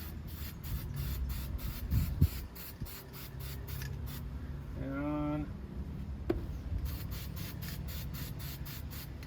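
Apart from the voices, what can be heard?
spray adhesive being sprayed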